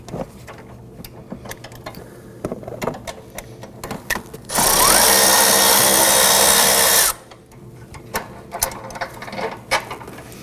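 Ratchet and power tool removing bolts from the rear engine torque strut mount of a 2015-2024 Nissan Murano 3.5L V6: scattered close mechanical clicks, then a loud continuous burst of about two and a half seconds, then more clicks.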